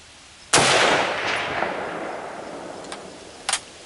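A single loud, sharp K98k bolt-action rifle shot outdoors, followed by a long fading echo and a few faint clicks of the bolt afterward.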